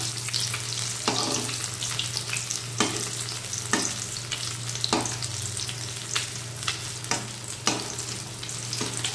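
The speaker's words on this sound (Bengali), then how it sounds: "এবার এই পিট ও পিট করে মাছগুলো ভেজে নিতে হবে।" Pieces of fish for a mango fish fry sizzle and spit steadily in hot oil in a pan, with a constant frying hiss and a few louder stirring scrapes spaced through it, close and fairly loud, with no talking.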